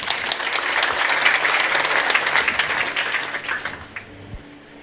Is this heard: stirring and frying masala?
no